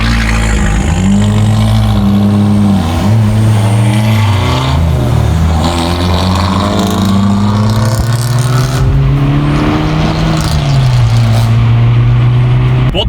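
A car engine revs loud and close as the vehicle accelerates, its droning tone climbing and dipping between gear changes, with faint voices underneath.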